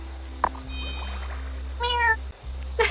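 A cat meows a few times in the video game Wylde Flowers over a low steady hum, with a short soft mew first and a longer drawn-out meow later.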